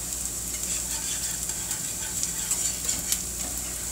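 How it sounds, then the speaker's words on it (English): A spoon works through a cheese sauce in a pan for a cauliflower bacon mac and cheese, with soft continuous stirring scrapes and a faint bubbling hiss up close, no one speaking. "let's get over here and stir our sauce"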